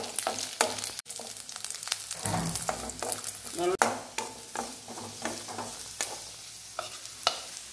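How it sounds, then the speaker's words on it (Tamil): Garlic, tamarind and dried red chilies dry-roasting in a pan, with repeated scraping strokes of stirring and a light crackle, close and steady with no talking. "இப்போ பூண்டு புளி ரெண்டும் சேர்த்திருக்கிறாங்க இது நல்லா ட்ரையாக வறுத்துக்கணும்"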